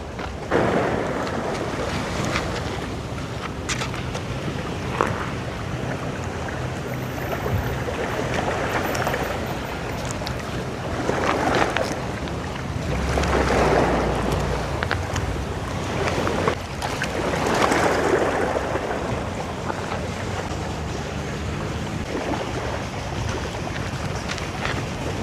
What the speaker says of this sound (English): there is a nice calm sound of the sea waves